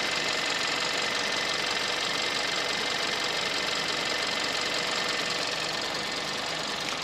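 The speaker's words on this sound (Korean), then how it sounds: "엔진 소리 먼저 한번 들려드릴게요." A steady engine hum with a faint ticking knock runs evenly throughout, close and continuous, with no voices, from the turbocharged engine of a 2019 Kia Soul Booster idling, heard in front of the engine bay.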